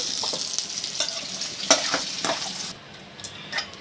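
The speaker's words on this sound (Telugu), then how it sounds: "అదే ఆయిల్లో మనం ఏవైతే కోసి పెట్టుకున్నామో అరటికాయ ముక్కలు వేసుకున్నామండి." Raw plantain pieces crackle and sizzle in hot oil nearby, with a spoon stirring and scraping the pan in several bursts before the frying hiss drops quieter near the end.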